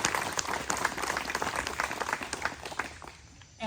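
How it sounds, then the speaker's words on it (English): Crowd applause at an outdoor campground ribbon-cutting ceremony, a dense burst of many hands clapping close by that gradually thins and fades out. "So if we could give them a round of applause"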